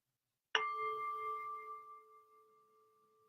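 A meditation bell is struck once, ringing out with a sharp attack and a long, clear, slowly fading resonance in an otherwise quiet room.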